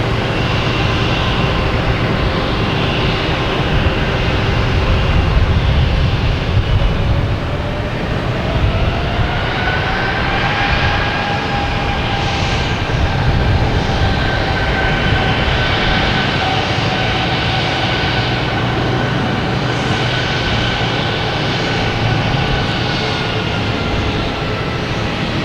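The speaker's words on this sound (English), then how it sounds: "Air Canada coming in." An Air Canada airliner arriving at Boston Logan passes with a loud, sustained jet roar and a slowly rising whine, with heavy low rumble and no talking.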